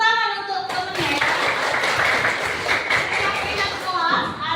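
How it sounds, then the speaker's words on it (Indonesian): Classmates clap for a fellow student in a classroom, a short burst of close, fairly loud group clapping that follows a voice and then fades out. "Tepuk tangan untuk temennya ya."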